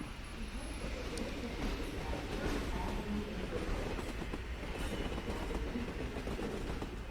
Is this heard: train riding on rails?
yes